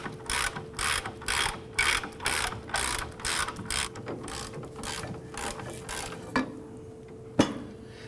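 Ratchet turning a bolt into a trailing arm bushing on a 2008-2011 Ford Focus, a quick repeated clicking in steady bursts up close, then a pause and a couple of single metallic ticks.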